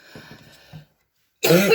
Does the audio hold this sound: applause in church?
no